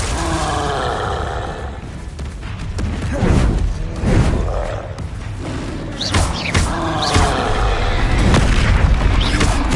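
Spell blasts from the Hogwarts Legacy video game boom and thud in quick succession, with deep rumbling impacts, crackling bursts and rising whooshes layered over one another in loud, chaotic combat.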